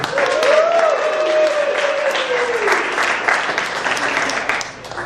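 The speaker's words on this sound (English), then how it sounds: "One more round of applause for Anna." Wedding guests applaud steadily as a room full of hands claps for several seconds, with a faint voice and a rising-falling whistle or cheer near the start before the clapping tapers at the end.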